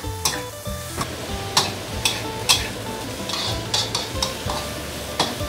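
Long beans stir-frying in a hot pan, a near sizzle broken by regular scraping strokes of a spatula against the pan, about two per second, with no voices.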